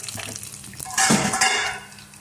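Mustard seeds, cumin and curry leaves hit hot oil in a pan for a chutney tempering, giving a sudden loud sizzle and crackle after some light utensil clatter, then a fading hiss.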